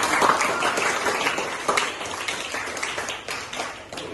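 Applause from students in a classroom, a moderate, fairly brief patter of scattered clapping that gradually thins out, heard close up without talk.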